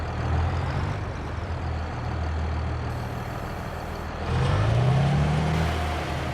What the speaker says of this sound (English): I'm gonna back this tractor up right here.